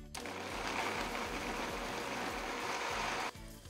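A kitchen blender whirs hard and steady while pureeing tomatillo salsa with jalapeno, green onion and chicken broth, one loud continuous motor run that cuts off abruptly near the end.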